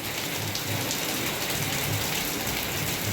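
Steady rain pours down on a rainy day, a dense, continuous hiss of drops hitting surfaces close by, with no voices over it.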